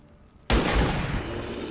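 A single rifle shot from the video game XCOM 2 fired at close range bursts in loudly after a brief quiet lead-in, followed by a long, booming rumble that holds steady to the end.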